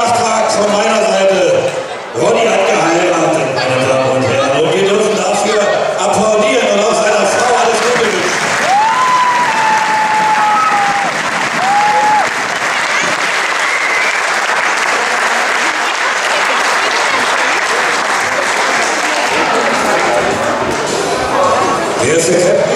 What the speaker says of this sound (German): Meine Damen und Herren, und wir dürfen dafür Applaus.